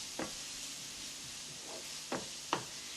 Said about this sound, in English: All you need to do is make sure it's just sauteed for about a minute